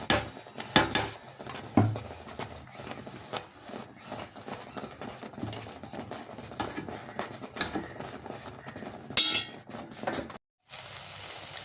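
Amla candy being stirred in a pan as it slowly dries and darkens, a soft patter and sizzle with intermittent scraping and light clinks of the spoon, fairly quiet and close, ending in a brief silence.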